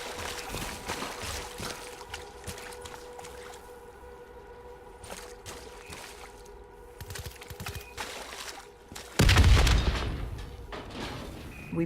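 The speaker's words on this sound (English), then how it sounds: "The explosion blocked our path." Explosion in the Black Ops 3 Nightmares video game, a sudden loud broadband blast near the end that follows a stretch of quieter in-game ambience and rumble, with a brief tail afterward.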